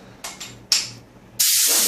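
A spray gun on a one-horsepower mini air compressor gives two short bursts of hissing air, then a loud, sustained spray, close and alone.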